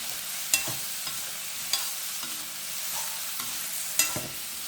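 Small onions and tomatoes frying in sesame oil, a steady crackling sizzle broken by several sharp spoon-against-pan clacks from stirring, close and without speech.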